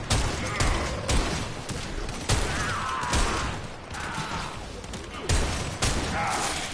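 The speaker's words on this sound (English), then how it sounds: "I'll just shoot you." Rapid bursts of Warframe gunfire crackle in quick clusters across the clip, loud and dense, with game mechanism clicks and ratcheting sounds mixed among the volleys.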